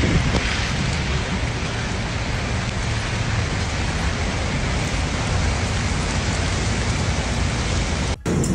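Heavy, steady rain pours down during a powerful storm in Dallas, Texas, a dense unbroken hiss close by that runs the whole time and cuts out briefly near the end.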